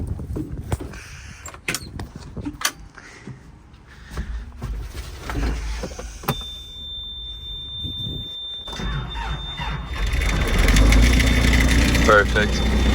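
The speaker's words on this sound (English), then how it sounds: "Go start the backhoe. Hopefully it starts pretty chilly out." A backhoe diesel engine cranks and catches on a chilly day, rumbling low and growing louder as it settles into a steady idle, with clunks and handling noises before the start.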